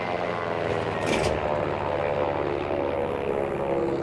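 A Bf 109 G-6 propeller fighter in Battlefield V on the Twisted Steel map drones loudly and steadily with a continuous engine roar, a brief louder burst partway through and no speech.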